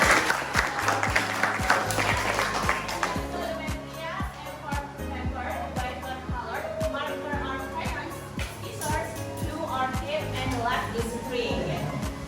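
Classroom applause for a student during an English lesson, a brief burst of clapping early on that gives way to a teacher's voice and children talking over steady room noise.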